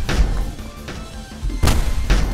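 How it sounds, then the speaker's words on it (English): A cannon in a video game fires in heavy booming blasts, about four loud thumping shots spaced unevenly across a couple of seconds, with no talk. "is it a cannon?"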